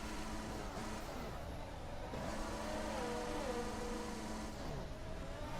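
A Formula 1 car in the F1 2021 racing game, handling poorly with its engine at reduced power, whines at a steady rev that rises and falls gently, fairly quiet under other game sounds.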